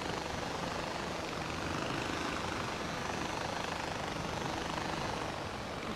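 A helicopter flies in the video game Far Cry 4, a loud, steady whirring rotor and engine drone that holds constant and close throughout, with no talk over it.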